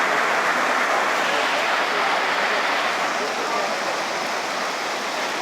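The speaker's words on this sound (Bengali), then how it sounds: "এই যে আমরা এখানে পা ধুচ্ছি" Steady wash of falling and splashing rainwater as people rinse their feet outdoors in the rain, a broad continuous hiss at moderate level with no clear voices.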